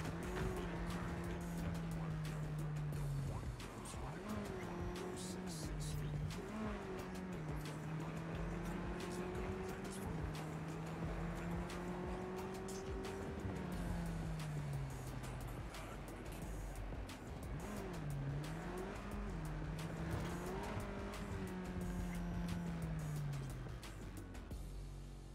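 Car driving in the video game Cyberpunk 2077, a steady engine whine rising and falling with shifts and revs, with tire squeals and skids throughout.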